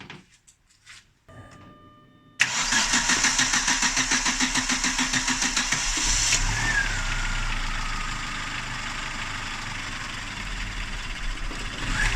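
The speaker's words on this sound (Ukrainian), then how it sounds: "Так, автомобіль завівся, але завівся уже на газу" A Chevrolet Lacetti, warmed up and running on gas, cranks with rapid rhythmic starter pulses for several seconds, then catches and settles into a steady idle, close and loud.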